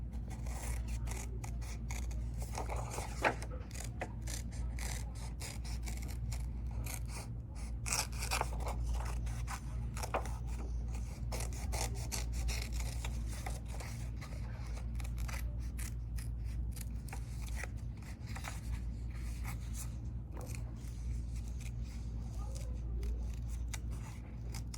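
Scissors snip through paper or card while a shape is cut out for a homemade fishing game, a steady run of small close cuts and scrapes over a low constant hum, with no talking.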